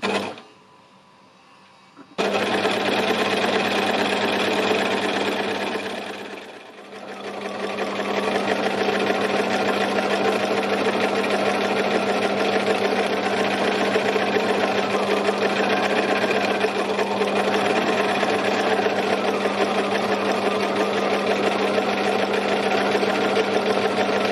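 A sewing machine stitches a tree outline in a continuous steady hum with a fast even whir, after a brief quiet start and a short dip partway through, with no talking.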